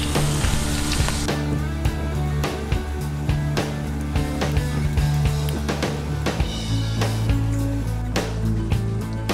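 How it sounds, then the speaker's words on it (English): Pieces of eel frying in a pan, giving a steady close sizzle with scattered pops and crackles throughout and no talking. "So I'm just gonna let these cook for a bit. Gonna fry it up, get them in the mix."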